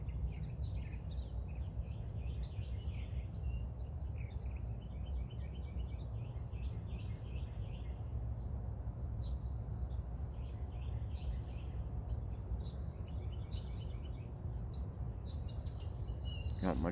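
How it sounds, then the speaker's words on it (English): Birds chirp and call steadily in the upper register over a constant low rumble of a passing train, with no voices. "those birds sound good and the train's going through"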